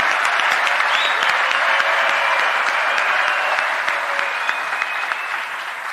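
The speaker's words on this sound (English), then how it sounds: "may we clap for the engineers." A conference audience claps for engineers at an engineering institution's symposium in Zambia. The applause is steady and dense and fills the hall, then thins slightly toward the end, with no talk over it.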